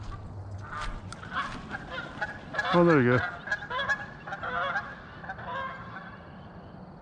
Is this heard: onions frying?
no